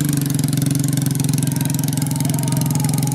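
A steady, low engine drone runs throughout with a regular pulsing throb, like a motorcycle idling close by, with no talking. A motorcycle taxi carrying another motorcycle stuck in a rice field.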